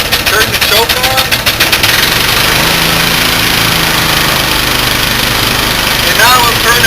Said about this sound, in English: what we'll do is we'll start the engine